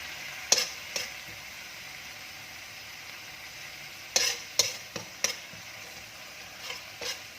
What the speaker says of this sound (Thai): ผัดไปเลยค่ะ ให้หอมๆ